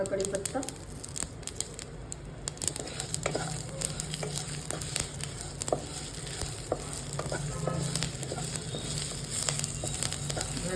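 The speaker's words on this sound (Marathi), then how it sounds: "आता आपण याच्यामध्ये तेल टाकूया थोडं आणि मिक्स करून घेऊया" A spice mixture is stirred and fried in oil in a pan, a steady close sizzle broken by scraping and rustling strokes of the spoon, continuous and fairly loud.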